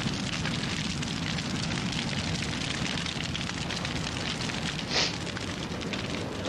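Burning tires in a large outdoor fire roar as a steady, dense rushing crackle that stays constant and loud throughout, with a brief brighter flare near the end.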